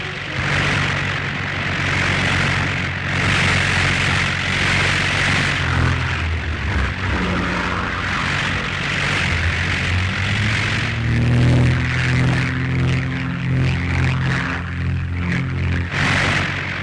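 French military propeller aircraft of 1939 taking off in groups of three, a loud steady engine drone filling the whole stretch, with rising and shifting low tones as the planes gather speed.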